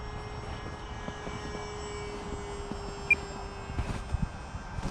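An E-Flite Air Tractor 402 radio-controlled model airplane fitted with floats flies in snow, its electric motor giving a faint, steady distant drone over a constant background hiss, with a few short knocks near the end.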